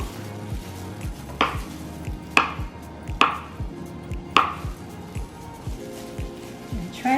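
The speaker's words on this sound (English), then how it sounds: "Now I'm gonna cut it in cube." A knife chops ripe mango into cubes on a cutting board for a mango chicken salad: several sharp, distinct strikes at an uneven pace, close and fairly loud over soft kitchen background noise.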